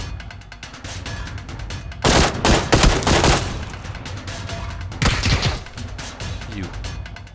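Bursts of automatic gunfire in a PUBG match on the Savage map, loud and close, in two volleys around the middle of the clip, with a low game soundscape between them.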